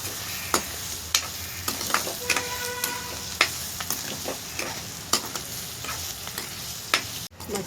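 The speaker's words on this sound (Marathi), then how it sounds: "आणि आता टाकते मिरची. मिरची पण त्याच्याबरोबर भाजून घ्यायची आहे." Green chilies roasting in a pan for a fasting-style upma, with steady sizzling and intermittent stirring scrapes and clicks from a utensil, fairly close and moderately loud, with no talking.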